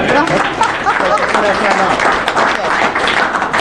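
Audience clapping at a real estate investors meetup, a loud close round of applause mixed with crowd voices and chatter, continuous for several seconds.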